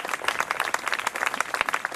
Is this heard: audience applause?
yes